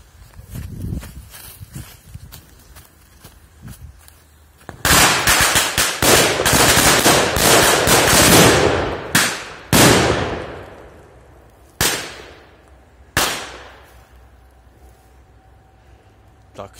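Firecrackers including Pirate Bomb and Mini Black Petard go off outdoors: a dense, loud burst of rapid crackling explosions lasting several seconds, followed by a few separate sharp bangs spaced apart.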